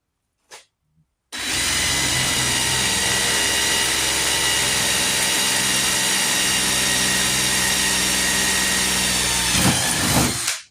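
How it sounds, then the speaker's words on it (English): Power drill boring holes during custom work on a Mini X, starting after a short pause and running as a loud, continuous whine for about nine seconds before stopping. "Okay, holes are drilled, so we know where they all go."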